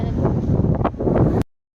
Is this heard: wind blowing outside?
yes